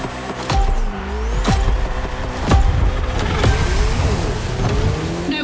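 A Ferrari racing car in The Crew Motorfest roars through a Red Bull speed clash, with the engine revving and rising, sharp gear shifts, and the pitch sweeping up and down as it accelerates, loud and close.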